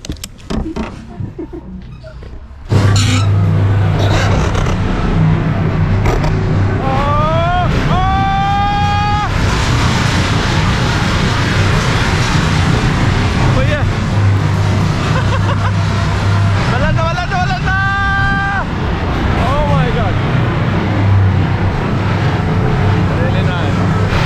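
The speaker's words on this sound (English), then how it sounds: "Let's ride the roller coaster." Roller coaster ride at an amusement park in Transnistria, with a loud constant rumble and rushing wind over the microphone from start to finish, and rising mechanical whines that come and go.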